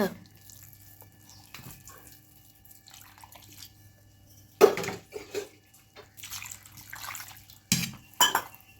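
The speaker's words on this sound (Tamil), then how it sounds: "இன்னும் தண்ணி ஊற்றலாமே" Water splashes and pours in short bursts into a bowl of rice flour batter for rice vadagam, with clinks of a vessel and quiet pauses between pours.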